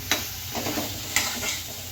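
Stirring tempering mixed with sesame flour (telagapindi) in a pan for a chana dal curry, heard as a close spoon scrape over a steady, soft sizzle, with two sharper knocks of the utensil against the pan.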